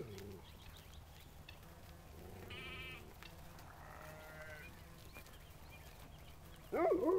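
A flock of sheep on a farm refuge, including hair and milk breeds, with scattered bleats and animal calls over steady outdoor background noise, ending in one louder, closer bleat.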